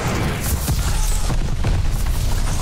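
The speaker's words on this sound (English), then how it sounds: "Enemy's got a glide bomb." An explosion from a glide bomb in the video game Call of Duty: Vanguard, a continuous low rumbling boom with scattered bursts and pops running through the whole stretch of dense, loud battle noise.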